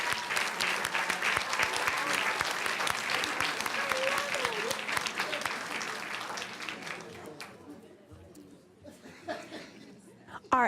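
A room full of people gives a warm round of applause for an award recipient at a school board meeting, with steady clapping for about seven seconds, some chuckling and chatter mixed in, then tapering to scattered voices.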